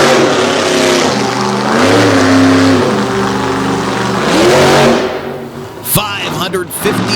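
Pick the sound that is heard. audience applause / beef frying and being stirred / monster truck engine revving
monster truck engine revving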